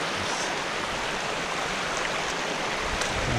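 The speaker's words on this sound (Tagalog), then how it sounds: "Sapa dito kasi maliit. Hindi naman tumatawag na ilog. Ito ay sapa lamang." A small creek in a rural province flows steadily, a constant broadband rush of running water close by, unbroken for the whole stretch with no voices over it.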